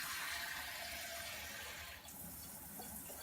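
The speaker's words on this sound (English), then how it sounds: "we're just gonna get regular water, it's fine" Tap water runs in a steady hiss, filling a measuring cup at close range. It changes in tone partway through as the cup fills; there is no talking.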